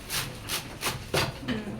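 A knife slices a cabbage in half on a board, giving several dry, rasping crunches in a steady rhythm, close and moderately loud, with a sharper crack near the end.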